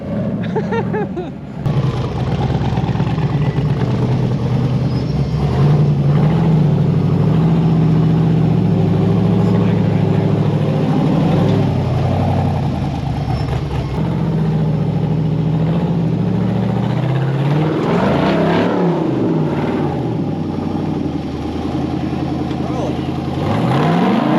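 A rock bouncer off-road buggy's engine revs and roars as it climbs a sand hill at Sand Hollow, a loud, sustained drone with rising pitch sweeps, heard under excited talk from the people aboard.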